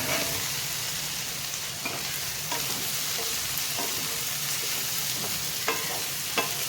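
Steady sizzling of sliced ivy gourd stir-frying in a hot pan, with occasional scraping clinks of a spatula, close and continuous.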